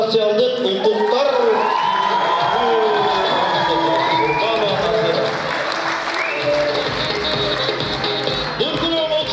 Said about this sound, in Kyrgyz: Дүркүрөгөн кол чабуулар.